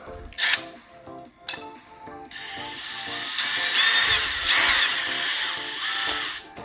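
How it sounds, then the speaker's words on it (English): A power drill drives screws into a light fixture mounting plate, first two short bursts and then a longer sustained whine with rising and falling pitch, close and loud with no talk. "Just be able to pop these screws in and tighten them up."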